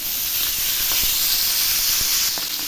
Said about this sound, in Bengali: জিরে ভাজা হয়ে গেছে, এবার ব্রকলিগুলো দিয়ে দিচ্ছি।